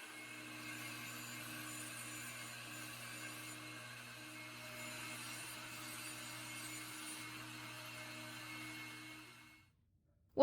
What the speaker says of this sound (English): I took it to the table saw and used my crosscut sled to clean it up and cut it to final dimensions.